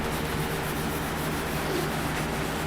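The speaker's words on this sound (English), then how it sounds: "So now we're re-sanding and going over the lower part" Continuous rubbing scrape of sanding on a wooden cabinet face frame, steady and close, with a faint low hum beneath and no voices.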